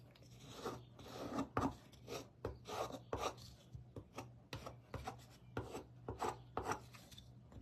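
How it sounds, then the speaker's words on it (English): A small hand scraper rasps over painted wood to distress it, a series of short, faint scratchy strokes in an irregular rhythm, close up and quiet. "I'm gonna get my little scraper here"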